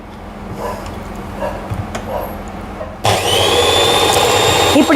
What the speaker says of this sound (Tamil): மெஷின் போட்டு பிளெண்ட் பண்ண போகிறேன்